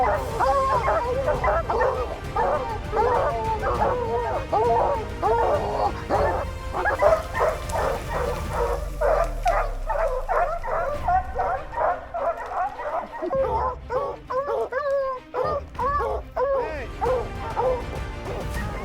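Hounds and Karelian bear dogs bark and yip in rapid overlapping bursts, loud and close, with whimpers and a brief crash mixed in, while voices talk underneath.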